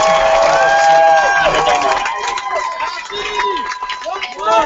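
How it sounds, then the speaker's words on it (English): A student audience at a university presidential debate applauds the candidates, loud clapping mixed with cheers and excited shouting that swells and stays lively throughout. "One last round of applause for all of them."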